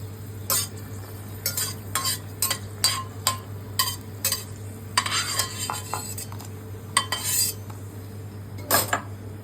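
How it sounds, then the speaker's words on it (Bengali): A few dried red chillies fry in a pan while a metal utensil clatters and scrapes against it in quick, irregular strokes over a faint sizzle and a steady low hum. "কয়েকটা শুকনো লঙ্কা ভেজে নিচ্ছি।"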